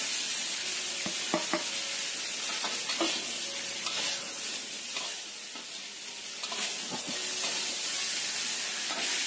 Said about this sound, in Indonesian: Aduk rata sampai tercampur. Kita tambahkan daun bawangnya.